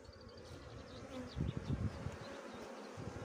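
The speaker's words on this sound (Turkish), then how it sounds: "Altı çerçeve arı var." Honeybees buzzing around an open hive with six frames of bees, a soft continuous drone with scattered nearby wingbeats swelling briefly, no talk.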